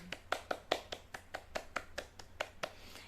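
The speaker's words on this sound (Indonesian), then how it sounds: "Tepuk tangan dulu." Students in a classroom clap their hands together in a quick, fairly even series of sharp claps, moderately faint and with no talking over them.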